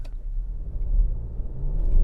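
A Chery Tiggo 7 Pro Max SUV engine restarts after start-stop shutdown: a close, low, steady rumble that swells slightly toward the end, with no talking.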